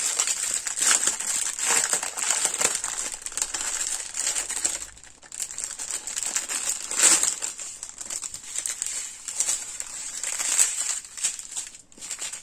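Diamond painting drill bag being opened by hand, continuous close crinkling and rustling of thin plastic with small rattles of tiny resin drills, steady throughout with brief lulls.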